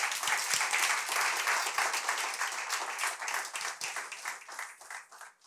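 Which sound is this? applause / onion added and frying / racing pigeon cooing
applause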